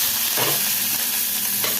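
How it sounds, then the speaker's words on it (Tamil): Thinly sliced capsicum sizzles steadily in a hot pan with ginger and green chili for a masala curry gravy, with stirring scrapes and no talking. "இப்போ இதே வதக்கிக்கலாம்."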